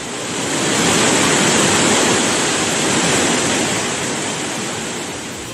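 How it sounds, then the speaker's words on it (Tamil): Kumbakkarai waterfall, swollen by heavy rain, gives a loud, continuous broadband roar of rushing water, steady and unbroken, with no voices. "கனமழையால் கும்பக்கரை அருவியில் நீர்வரத்து அதிகரிப்பு."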